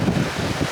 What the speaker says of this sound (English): I apologise for the wind, it's brutal today.